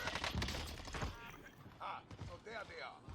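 Gunfire in the Warzone video game crackles in quick bursts of several sharp shots, mostly in the first second, then scattered impacts, heard faintly beneath someone talking throughout.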